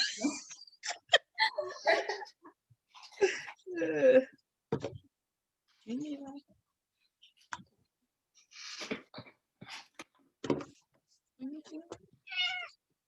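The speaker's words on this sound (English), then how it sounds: "Oh, we got the cat. Did you hear that? I heard the kitty cat." A few short cat meows come through amid nearby voices talking, each cry brief and fairly clear.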